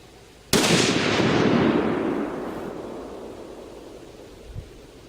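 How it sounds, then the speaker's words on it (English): A single 30-06 rifle shot at an outdoor range, one sharp loud crack followed by a long rolling echo that fades over several seconds. "we're gonna take the first shot with the 30-06"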